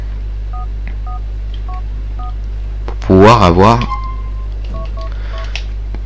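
A cheat code is dialed on the in-game phone in GTA IV, a series of short, evenly spaced keypad beeps under a steady low hum, broken midway by someone speaking.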